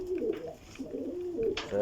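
Pigeons coo softly in a few low, rolling calls, nearby and fairly quiet, over faint background noise.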